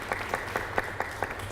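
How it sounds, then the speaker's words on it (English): Scattered clapping from a small audience at an entrepreneurs' panel discussion in Milwaukee, a handful of distinct claps spaced irregularly over a low steady hum in the room. "Yes, clap it up."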